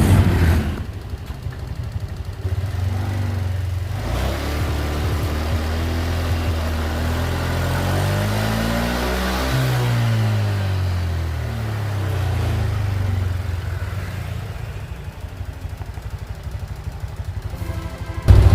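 A Honda Genio scooter with a freshly replaced CVT ratio idles close by, then its engine revs up to a peak and winds back down to a steady idle.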